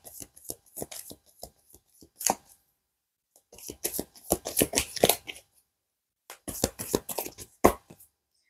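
Tarot cards are handled close by during a French card reading, quick papery flicks and slaps in short bursts separated by brief silences, with no talk.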